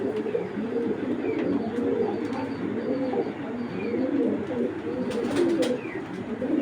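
Domestic foreign-breed pigeons coo nearby in soft, rolling, repeated phrases that overlap one another against a quiet background hiss.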